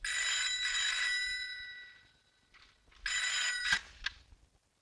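A telephone rings in two bright, trilling bursts separated by a short gap, loud and close, with a clatter at the end of the second ring and no speech.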